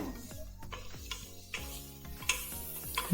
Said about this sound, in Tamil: நல்லா ஃப்ரை பண்ணணும். அது நல்லா டிரான்ஸ்பரண்ட், நல்லா ப்ரௌன் ஆகிற வரைக்கும் நல்லா ஃப்ரை பண்ணணும்.